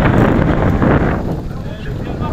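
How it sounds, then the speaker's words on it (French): Strong, steady wind gusts buffet an action camera microphone outdoors as a storm approaches, a loud broadband roar that dips slightly partway through and continues throughout. "je crois que ça souffle un peu"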